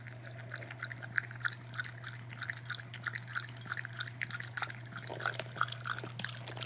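A dog laps water from a bowl close by, a quick, steady run of wet slurping laps over a low background hum.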